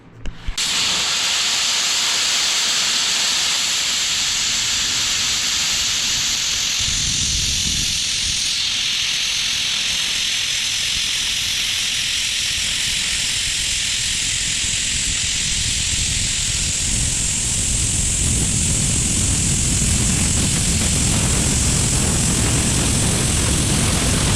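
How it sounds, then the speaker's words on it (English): A YesWelder Cut 65DS plasma cutter slices through 3/4 inch steel with a loud, continuous roaring hiss that starts abruptly and keeps on, shifting slightly in tone as the cut progresses. "It can cut 1/4 inch, but will it cut 3/4 inch steel without issue?"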